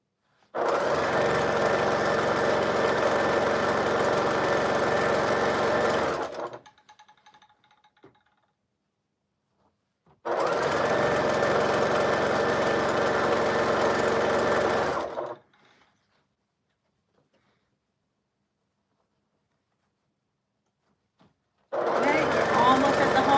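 A sewing machine runs fast, quilting a five-yard quilt in three long bursts of several seconds each, with near-silent pauses between them; the steady whirring stitching is loud and close.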